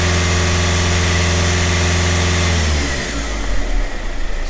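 A BMW M47 diesel in a Land Rover Freelander TD4 holds a steady high-rev drone for nearly three seconds, then drops off toward a lumpier, lower idle, loud and close.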